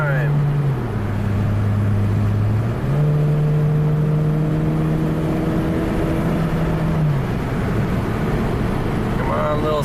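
A Honda Civic back on the road after a head gasket repair, its engine pulling hard up a climb with a steady drone that rises and falls through the gear changes, close by and loud.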